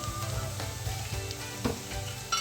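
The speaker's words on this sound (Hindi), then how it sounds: "यहाँ पर हमारी सब्जियाँ थोड़ी सी फ्राई हो चुकी है, इसको हमने फुल फ्राई नहीं करना" Vegetables for a noodles and macaroni dish fry in a pan with a steady, close sizzle, a few light stirring scrapes breaking through near the end.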